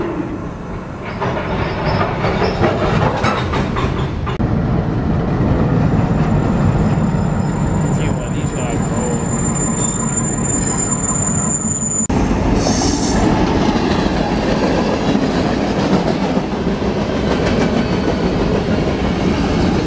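A train rumbles past close by, wheels clattering and squealing in a loud, sustained roar, with a sharp high screech fading partway through.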